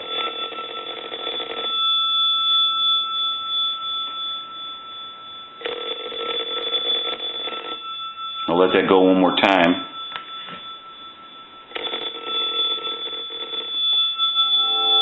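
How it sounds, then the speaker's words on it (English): A Western Electric candlestick telephone bell, converted and driven by line voltage, rings in three loud, rapid metallic bursts separated by pauses, with someone speaking briefly between rings. "Now this is the line voltage ringing the bell."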